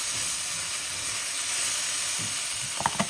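Eggplant cooking in a pan for vetha kozhambu hisses in a steady, close sizzle, ending with a few knocks and clatters as the lid comes off and the contents are stirred; nobody speaks.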